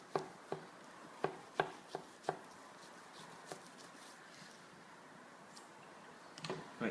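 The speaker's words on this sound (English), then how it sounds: "And trim just a little bit of fat off the top" A butcher's knife trimming fat off a steak on a board, a series of sharp close taps and cuts in quick succession, then quieter scraping with a few more knocks at the end.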